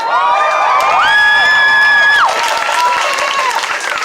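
A crowd at a march for Breonna Taylor cheers and applauds loudly, with high whoops and shouts rising over steady clapping.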